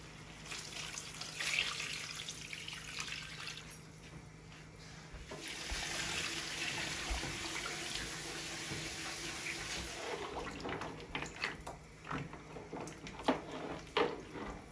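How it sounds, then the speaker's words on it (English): Water pours into a pot of Guyanese pepper pot, a continuous splashing gush that swells midway, then breaks into scattered drips and light clinks near the end. "I'm going to add in my water"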